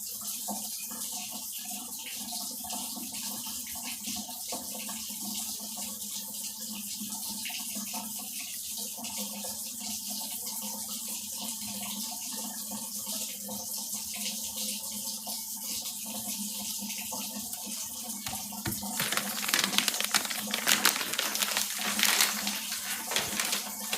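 Hot water runs steadily from a kitchen tap as a constant soft hiss for over twenty seconds, turning louder and splashier near the end as something passes under the stream.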